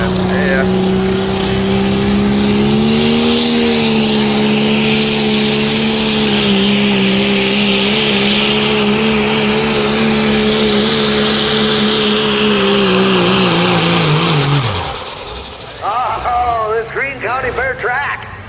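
A diesel 4x4 truck at a tractor pull roars at sustained high RPM in a lower gear, engine pitch holding steady then dropping sharply as the run ends, followed by quieter rumbling and crowd or announcer sounds.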